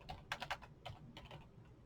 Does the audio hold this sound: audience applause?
no